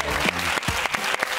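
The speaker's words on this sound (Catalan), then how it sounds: "Un aplaudiment per ell." A studio audience at a Catalan TV talk show applauds, a short burst of dense clapping close to the microphone.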